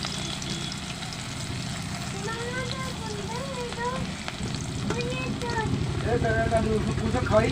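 Chopped onion, bay leaf and garlic sizzle in hot oil in a pan, a steady crackling hiss that grows louder toward the end, with a person talking over it.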